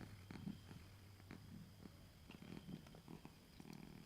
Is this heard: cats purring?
yes